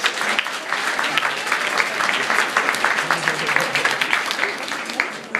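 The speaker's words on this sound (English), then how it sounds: "let's give him a round of applause" Sustained audience applause at a motivational workshop, a steady dense wash of clapping across the whole stretch, fairly loud and close with a faint voice underneath.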